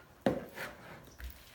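A spoon scrapes and stirs a flour mixture in a bowl, with one sharp knock at the start followed by a softer scraping stroke and a faint second scrape, close and quiet.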